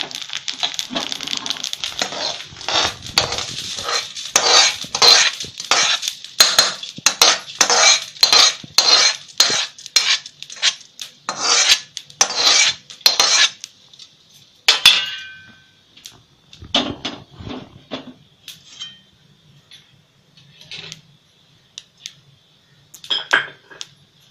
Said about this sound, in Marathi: हळिंबाचं चांगलं खरपूस भाजले ते काढून घेऊया आपण